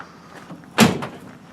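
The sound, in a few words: Volkswagen single cab truck door opening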